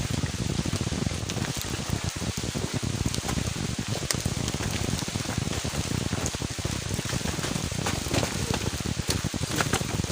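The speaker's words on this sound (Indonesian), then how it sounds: "Jadi Gunung Gede ini lagi dalam keadaan hujan." Steady rain pours on the forested slopes of Mount Gede in Indonesia during a mountain hike, a dense, continuous hiss with scattered close drop hits and no voices over the full stretch.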